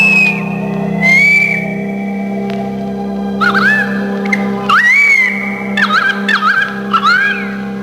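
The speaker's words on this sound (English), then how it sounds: "a pee-wee's spearing cry whistled down the road to where Crazy Jack sat" Repeated rising whistled cries of a pee-wee (magpie-lark) along a country road, clear and fairly close, coming in short bursts over a steady low background hum.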